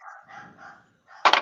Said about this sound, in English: Whose dog's barking in the background?